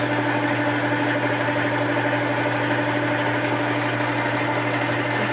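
A Grizzly lathe runs steadily while cutting a pinion gear, its motor giving a constant, even hum with a strong low drone and no break or change across the whole stretch.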